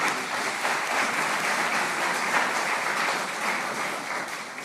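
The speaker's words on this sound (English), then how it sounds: "warm round of applause for Minister Niale Kaba, Minister of Planning and Development of Côte d'Ivoire" Warm, sustained applause from a large conference audience at an opening ceremony as a minister of planning from Côte d'Ivoire is welcomed on stage; the dense clapping is even and distant-sounding, fading slightly toward the end.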